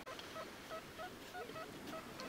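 Short faint electronic tones from a metal detector recur every half second or so over steady wind and surf noise on a beach at Stegna after a storm, chirping softly in the background.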